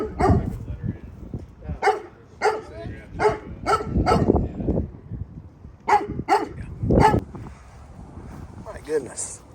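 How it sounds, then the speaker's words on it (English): Dog barking in repeated bursts, some sharp barks and yips with whimpers, fairly close, interspersed with background noise, outdoors near a large inflatable Santa decoration. "Throw her inside real quick so it's not barking."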